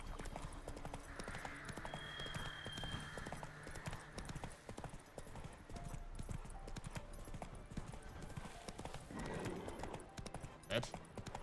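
Geralt's horse Roach from The Witcher 3: Wild Hunt gallops with steady, muted hoofbeats running under game music and someone talking throughout.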